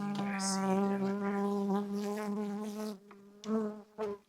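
Honeybees swarm and buzz close around two opened hives, their frames being pried apart, one hive strong and the other dying. A steady, dense harmonic drone fills most of the stretch, then breaks into short, louder bursts toward the end.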